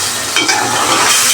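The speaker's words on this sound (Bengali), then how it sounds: "এখন মনের আনন্দে নেড়ে চেড়ে নিচ্ছি।" Egg korma sizzles and fries in a pan while a spoon stirs it steadily, a loud, continuous hiss of hot oil with soft scraping, close and without talk.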